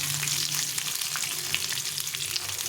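Thick-cut onion slices sizzle steadily in hot oil in a pan, a dense, even crackle that holds throughout with no voices.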